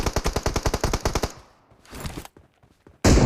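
Rapid burst of about fifteen loud gunshots in a BGMI mobile battle royale match, followed by a pause, a softer spray of shots and another loud blast cutting in at the end.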